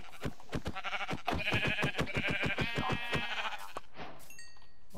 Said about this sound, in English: I'm going to have to kill the sheep.